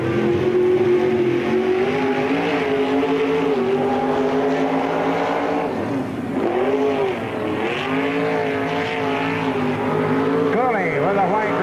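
A late model race car roars around the Spoon River Speedway oval, its loud engine droning steadily with rising and falling pitch as it laps, revving hard near the end, with a commentator talking over it.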